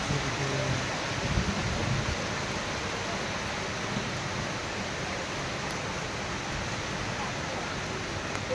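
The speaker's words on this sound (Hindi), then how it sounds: "ये अभी बहुत तेज बारिश है।" Heavy rain falls on a car during a drive, a dense, steady hiss that fills the whole stretch, with a slightly louder rumble in the first couple of seconds.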